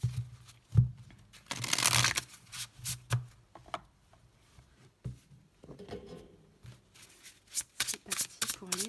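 Tarot cards being shuffled close by, with a burst of riffling followed by soft slaps and slides of cards, while someone talks intermittently.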